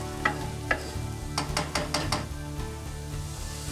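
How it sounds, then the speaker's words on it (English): Chopped onions browning in a pan for a rotini with clam sauce, giving a steady close sizzle with a few sharp clinks of a utensil scraping and stirring against the pan, no talking. "Now one nice thing about adding the onions at this point is that all the moisture in them will dissolve all those little brown bits on the bottom of the pan."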